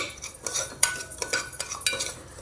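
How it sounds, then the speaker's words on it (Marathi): A spoon scrapes and stirs semolina roasting in ghee in a pan, with a soft frying hiss beneath, quick irregular strokes close up. "तो छान असा परतून घेऊया तुपामध्ये"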